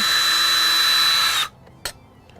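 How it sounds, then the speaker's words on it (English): A power drill with a Phillips bit whirs steadily at close range for about a second and a half while removing a screw from an RV door, then cuts off, followed by a brief faint click. "we're going to take our Phillips head on our drill bit here, take off this screw"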